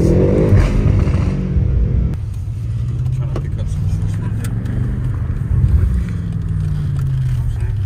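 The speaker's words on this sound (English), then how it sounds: "That's how it sounds when you redlined it." A 2023 BMW M8 Competition engine roars loudly and continuously, revving high to redline then settling into a steady drone throughout.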